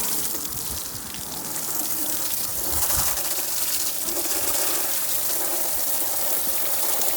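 A garden hose sprays hard onto a mud-caked dirt bike, a constant hissing gush of water with a brief splashing thump partway through and faint birds in the background.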